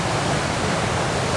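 A river waterfall in flood roars with a dense, steady rush of water, loud and close, with no voices over it.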